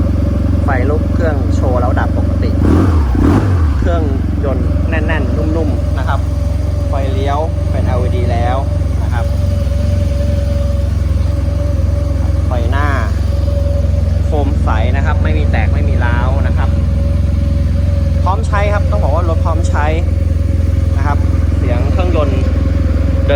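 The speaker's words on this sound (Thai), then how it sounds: "เครื่องยนต์นะครับเดินดีนะครับ" A 2010 fuel-injected Yamaha TMAX 500 scooter engine runs at a steady idle, its low exhaust drone continuous and close while someone talks over it throughout.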